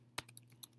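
Several quick keystrokes on a computer keyboard click in a light, uneven rhythm, faint and close with no voice over them.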